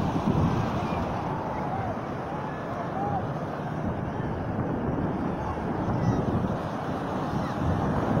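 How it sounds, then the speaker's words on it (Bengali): Big sea waves at Kolatoli Beach in Cox's Bazar, a continuous loud roar of surf mixed with heavy wind buffeting the microphone, steady throughout with no clear voices. "কত বড় ঢেউ আইছে।"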